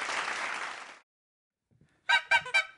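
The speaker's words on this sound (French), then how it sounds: "excusez-moi de vous déranger avec mon klaxon, mais j'aime bien faire du bruit" A horn honks three times in quick succession, loud and close, following a burst of applause-like noise and a short silence.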